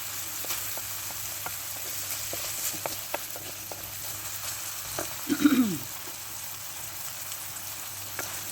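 Potato samosa filling with sauce, coriander and spices is stirred in a pan, giving soft intermittent scrapes and clicks over a faint background hiss, with one brief louder scrape midway and no speech.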